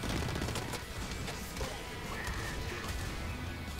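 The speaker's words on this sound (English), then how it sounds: "The shotgun is so fucking inconsistent." Rapid shotgun blasts and chaotic impacts in the online shooter Blacklight Retribution, a dense, continuous barrage of loud gunfire and crashes filling the whole stretch with no talk over it.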